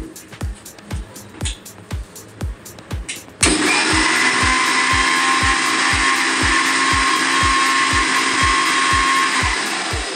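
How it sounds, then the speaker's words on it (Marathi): A kitchen mixer grinder blends lassi with added sugar, its loud steady whir starting abruptly partway through and holding at full volume, while a rhythmic ticking thump repeats throughout. "नंतर परत मी मिक्सरमध्ये फिरून घेणार आहे"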